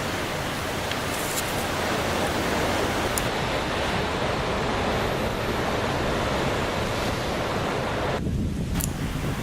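Steady broadband surf washes over a Caribbean beach, a continuous roar of breaking waves with wind noise across the microphone, loud and unbroken throughout.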